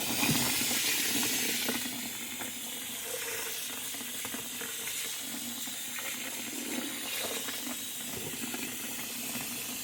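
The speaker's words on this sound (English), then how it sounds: "I'm going to put it in the strainer and I'm going to rinse it off" Tap water runs steadily into a strainer as hot dog relish is rinsed, a bright continuous splashing hiss that starts slightly louder then settles into an even flow, with no talking.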